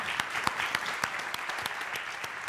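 Applause from an audience at a hackathon as a speaker is welcomed to the stage, a steady wash of many hands clapping with a few sharper claps standing out.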